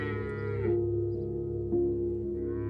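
A cow mooing alone: one long, deep, sustained bovine call with a rich harmonic tone that dips in pitch twice and swells slightly as it carries on, heard clearly and fairly close.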